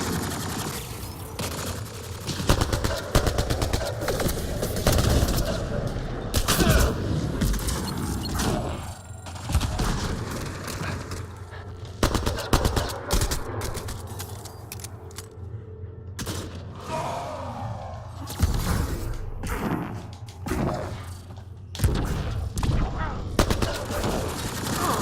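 Sniper gunfire in Mass Effect Andromeda cracks in repeated loud shots amid a continuous battle din with rumbling effects, mechanical clanks and occasional voices.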